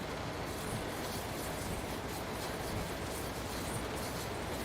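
A lightly loaded train in Train Sim World 3 rolls along with a continuous dense rumble and broad rushing noise, steady and close with no clear breaks.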